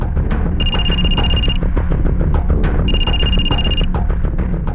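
A telephone rings in two electronic bursts, each about a second long with a pause between, loud over a dense backdrop of dramatic music.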